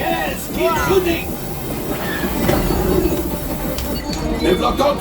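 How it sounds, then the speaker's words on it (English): Train passing during a sci-fi video game mission, its rumbling rail noise steady and fairly loud under laser fire and talk from game characters throughout. "There is the train."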